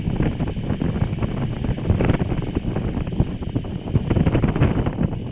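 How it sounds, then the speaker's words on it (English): Wind buffets and roars across the microphone while riding a motorcycle on an exposed, treeless climb, a steady loud rumble that fills the whole clip without any talk. "We don't have any trees to block the wind."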